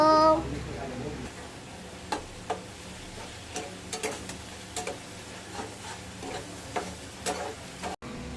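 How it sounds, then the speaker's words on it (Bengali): Spices with chilli powder, coriander powder, turmeric and cumin are stirred and fried in a pan, a low steady sizzle under a series of sharp spoon knocks and scrapes at irregular intervals, close by. "লঙ্কা গুঁড়ো, ধনে গুঁড়ো সব কিছু দিয়ে আবারও নেড়ে চেড়ে কষিয়ে দেব।"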